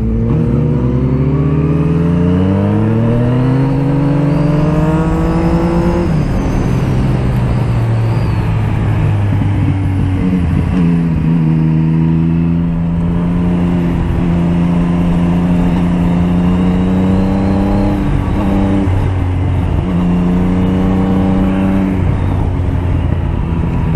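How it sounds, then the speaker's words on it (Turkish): A motorcycle engine drones loud and close while its throttle is repeatedly opened and eased on a rough, broken road through the Uçmakdere bends, its pitch rising and falling in steady waves with no pauses. "Zemin çok bozulduğu için mecburen gaz koluyla oynamak zorunda kalıyorum böyle."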